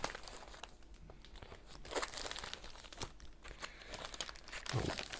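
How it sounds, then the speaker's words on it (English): Stickers are peeled off items up close in a quiet room, giving soft crinkling and tearing sounds with intermittent sharp rips and rustles. The sounds are faint and irregular. "So just peel some stickers off them."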